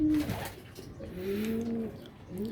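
Pigeons coo on a rooftop, soft rolling low coos repeating close by, with faint background noise.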